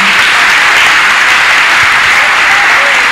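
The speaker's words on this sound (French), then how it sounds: "Est-ce que quelqu'un peut acclamer Jésus?" A church congregation at a Sunday service bursts into loud, sustained applause and cheering for Jesus, dense clapping filling the space steadily from start to finish.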